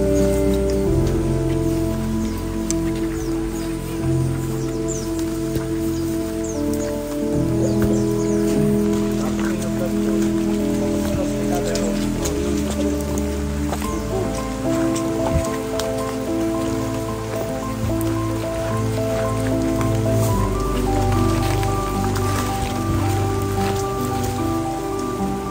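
Steady rain falling in a forest, a dense continuous patter of drops on leaves and surfaces that stays loud throughout, with occasional voices heard beneath it.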